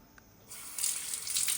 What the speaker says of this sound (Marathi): थोडं पाणी पण टाकून दाखवलेलं आहे. ते पूर्णपणे पाणी सोक करून घेतं.